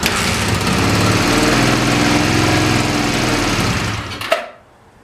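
A used motorcycle engine bought off Craigslist runs loud and steady up close, then cuts off abruptly near the end into near silence.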